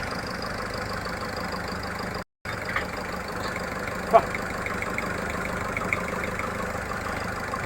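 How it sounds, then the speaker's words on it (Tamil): A used car's engine idles unevenly and shakes badly, giving a steady rough mechanical rumble with a brief dropout and one sharp knock. "இங்கே பார்த்தா தெரியும் உங்களுக்கு, என்ஜின் பயங்கரமாக ஷேக் ஆகுது."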